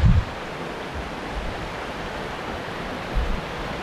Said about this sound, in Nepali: देख्नु सक्नुहुन्छ इत्राम खोला कति बढेको छ